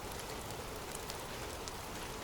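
Steady, dense rain falls continuously in a soft, even hiss with scattered droplet patter, faint and unbroken throughout.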